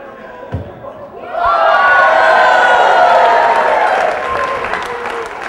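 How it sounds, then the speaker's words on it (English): Crowd at a live comedy show breaking into loud cheering and applause, a sudden swell after a short pause that holds strong, then tapers slightly near the end. "you get a cheer from the crowd."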